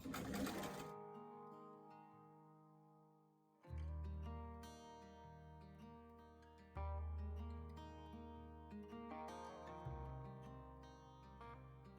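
A sewing machine stitches the turtleneck collar of a doll top in short bursts, starting and stopping about every three seconds, a steady mechanical hum up close with no talking.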